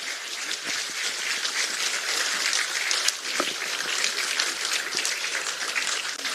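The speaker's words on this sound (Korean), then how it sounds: "서울 시민께 드리는 글을 큰 박수로 채택해 주시기 바랍니다" Sustained applause from a large audience at a People Power Party Seoul city chapter event, dense and steady for several seconds with no voices over it.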